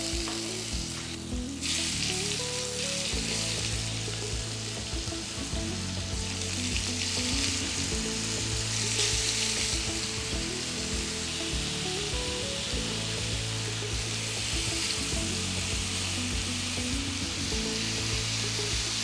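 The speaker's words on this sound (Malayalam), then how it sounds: "ബീഫ് എല്ലാം ഫ്രൈ ചെയ്തെടുത്തു." Beef chops fry in a pan with a steady, close sizzle of hot oil that continues unbroken throughout, with occasional stirring and spatter.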